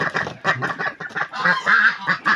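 Repeated loud goose honks in close succession, nasal and brassy, filling the whole clip with no speech.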